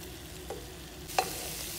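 Kerala beef roast, darkened beef with pepper powder, fries quietly in a pan, a low sizzle with two brief scraping stirs, faint and close.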